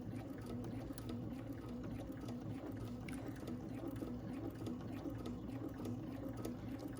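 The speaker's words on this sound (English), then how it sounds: "So I'm just going to sew across this bottom." A domestic sewing machine stitches across the bottom seam of a fabric bag, giving a quiet, continuous mechanical whirr with a fast, even rhythm for the whole stretch.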